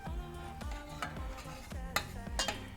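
Queso blanco being stirred on a flat top griddle, a quiet, rhythmic series of soft scraping strokes about every half second, with a faint metallic clink and a low steady hum behind them.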